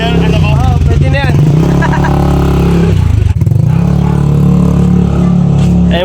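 A motorcycle engine runs close by, a continuous mid-pitched drone with slight revs, while people talk over it throughout.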